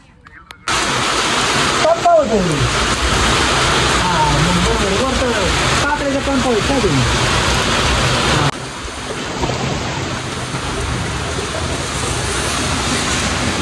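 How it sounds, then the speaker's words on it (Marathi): Heavy rain roars in a dense, steady hiss, with a person speaking briefly over it early on. "तर मित्रांनो आता झालाय पाऊस"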